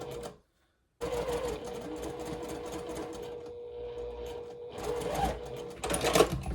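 A domestic sewing machine chain-pieces quilt blocks, running in steady rapid stitching bursts after a brief silence, speeding up and growing louder toward the end.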